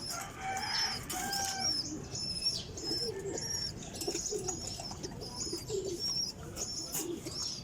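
Pigeons cooing close by in a steady stream of soft, low, rolling coos, with brighter chirps from other birds layered above and faint background noise.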